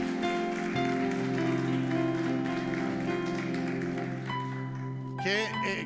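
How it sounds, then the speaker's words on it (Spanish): A congregation applauds during a Sunday church service. Broad, steady clapping sits under sustained music and a voice, and a singer's rising phrases cut in near the end. "Den un aplauso al Señor."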